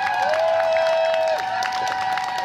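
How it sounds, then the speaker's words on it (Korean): An outdoor crowd at a Palestine solidarity rally in Jongno, Seoul, applauds and cheers after a performance, clapping and shouts blending into a steady roar beneath a sustained tone from the PA system. "Let's give them a round of applause."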